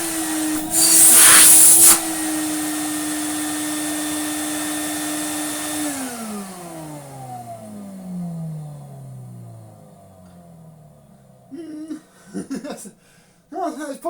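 A Victor V9 vacuum cleaner motor runs with a steady whine, then spins down with a falling pitch and fades out; a burst of louder rushing air comes early, and brief talk and laughter follow at the end.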